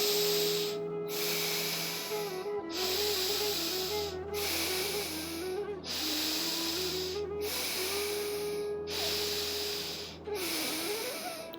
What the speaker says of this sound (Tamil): மெதுவாக மூச்சை வெளியே விடுங்க